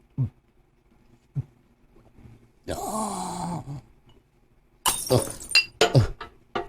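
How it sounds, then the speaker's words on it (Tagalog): A drinking glass falls and shatters at close range, with a burst of bright crashing followed by scattered tinkling clinks of pieces, after a few earlier knocks and a brief groan-like noise. "Dahog ang baso."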